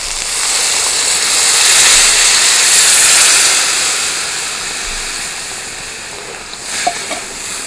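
Water poured into a hot curry pan with potatoes for a Bengali fish curry, bursting into a loud sustained steam hiss and sizzle that slowly fades, with a faint clink near the end.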